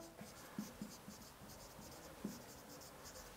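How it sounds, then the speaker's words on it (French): Chalk or marker scraping across a classroom board while the French verb prendre is written out, a faint run of short scratchy strokes with a few sharper taps, no talking. "je vous écris aussi le verbe prendre"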